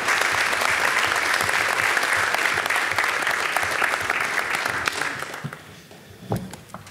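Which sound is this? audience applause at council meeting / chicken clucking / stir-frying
audience applause at council meeting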